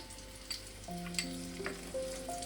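Spices fry for paneer manchurian as a quiet, brief sizzle, overlaid by a few sustained tonal notes, without any talking.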